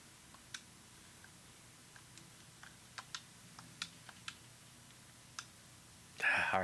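Scattered keystrokes on a computer keyboard click irregularly and sparsely, close but quiet, as someone hunts for keys, ending in a brief louder burst of noise.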